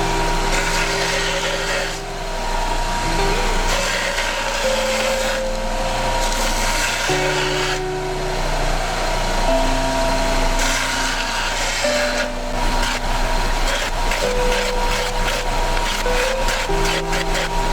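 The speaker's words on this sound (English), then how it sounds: "Great sander." Power sander grinding a sharp metal edge to a 45-degree bevel on a gate latch, a loud continuous whine with rasping passes that rise and fall in strokes.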